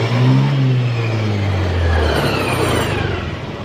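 A Honda Scoopy fuel-injected motor scooter engine revving at full throttle, a loud close whine that holds, then falls in pitch after about two seconds and settles into a rougher steady roar.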